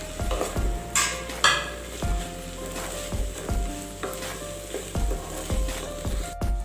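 Small current tomatoes fry in a hot pan with heart leaf, a continuous bright sizzle broken by regular scraping and clinking of a utensil against the pan as the food is stirred.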